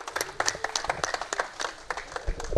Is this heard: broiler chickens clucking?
no